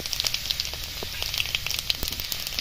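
Dried red chillies crackle and sizzle in hot mustard oil, a steady close frying hiss with scattered small pops throughout, no voices.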